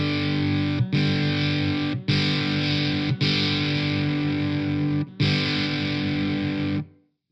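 Electric guitar through the Amplitube amp simulator with bass boosted and mids scooped, a few long, sustained, heavily distorted chords with brief breaks between them, thick and muddy, played alone.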